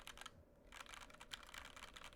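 Rapid typing on a Cannonkeys Satisfaction 75 mechanical keyboard fitted with lubed, filmed Gateron Yellow Ink switches with UHMWPE stems, a steady stream of close, soft-edged clacks with a brief pause near the start, no voices.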